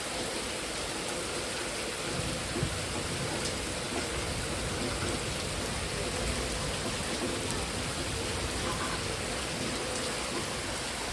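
Heavy rain falls steadily throughout as a dense, unbroken roar, with no distinct thunderclap standing out.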